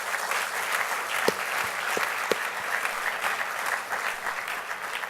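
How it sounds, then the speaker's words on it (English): An audience at the Babson College Academy of Distinguished Entrepreneurs gala applauds investors, with steady, full crowd clapping and a few sharper individual claps standing out. The applause runs alone for several seconds. "So please join me for them in a round of applause as well."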